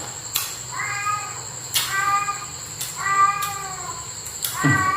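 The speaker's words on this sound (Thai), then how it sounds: "เสียงแมว" A cat meows loudly and repeatedly, four or five drawn-out cries close by, each starting with a sharp knock-like click.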